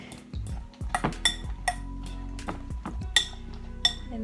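Egg being mixed in a bowl for breaded okra: repeated clinks and scrapes of a utensil against the bowl, close and fairly quiet, in an irregular rhythm with no talk.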